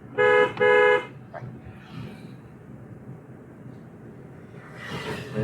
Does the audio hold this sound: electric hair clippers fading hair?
no